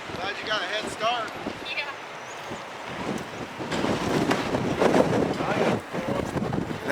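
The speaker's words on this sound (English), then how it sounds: "See a little bit of how windy it is." Strong gusting wind buffets a vehicle on a snowy drive through Blowing Rock and Boone, North Carolina, rising into loud rushing blasts in the second half, with a voice speaking over it early on.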